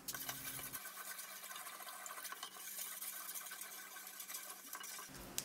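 Water being stirred to mix a 10% salt-in-water quench medium for hardening metal, a steady swishing and clinking in a container that runs continuously for several seconds, close up and with no talk.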